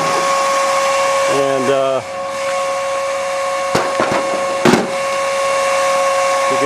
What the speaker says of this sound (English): you can see it's a very expensive Wonderwind 1250 hair dryer